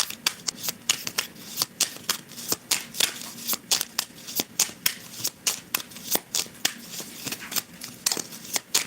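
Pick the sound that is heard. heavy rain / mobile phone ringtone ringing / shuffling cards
shuffling cards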